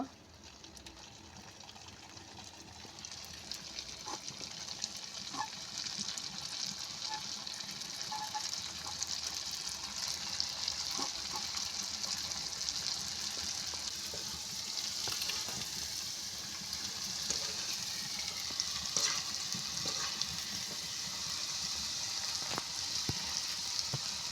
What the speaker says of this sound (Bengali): কটকটি ভাজার জন্য আমি কড়া বসি দিয়েছি হয়ে গেছে এবার আমি কটকটিগুলো ভেজে নেব